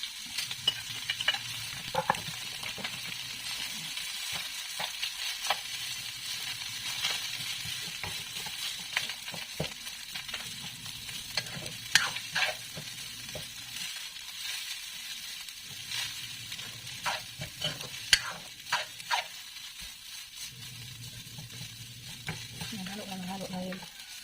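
Leftover rice stir-fried in a pan, a steady sizzle with repeated scraping and stirring strokes that come in bursts, close and fairly loud, with no talk over it.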